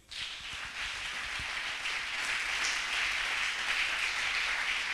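A church congregation applauds together, a dense, steady wash of clapping that holds loud and even from start to finish with no voices standing out.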